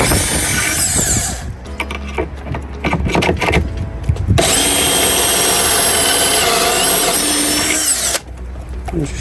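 Power drill driving pocket-hole screws into wood for a campervan pull-out cupboard, with loud close whirring bursts, a pause of handling noise, then a long sustained run; no talking.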